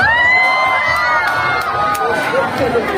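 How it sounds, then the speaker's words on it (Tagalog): A crowd at a Miss Gay pageant in Angeles City, Pampanga cheers and shouts, with loud overlapping whoops and yells over a lively, sustained roar lasting about three seconds. "Wala po bang hiyawan dyan?"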